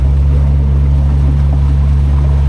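A Parsun 60hp four-stroke outboard motor runs steadily on a boat during break-in at a fixed low RPM, giving a loud, constant low drone with a strong steady hum and no talk.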